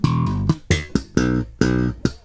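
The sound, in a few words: bass guitar fill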